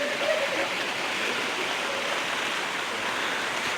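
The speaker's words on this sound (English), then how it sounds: "The waterfall from last time isn't what it used to be." A waterfall beside a swamp on a canoe trip gives off a steady, even rush of falling water that holds constant from start to finish, with no talk over it.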